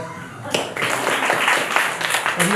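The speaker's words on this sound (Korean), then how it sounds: "박수 한번 주실까요?" A congregation at a Sunday church service bursts into clapping that swells into sustained applause, with a few scattered voices mixed in.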